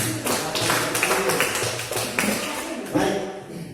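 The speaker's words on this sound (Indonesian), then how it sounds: "Kita tepuk tangan untuk kelompok 2 dulu." A classroom of students applauds a presenting group, producing a dense patter of many hands clapping at close range and fading toward the end.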